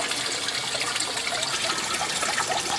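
Dirty, waste-laden water from a koi pond sump pours out in a steady, continuous gushing splash, close and fairly loud, with no voices.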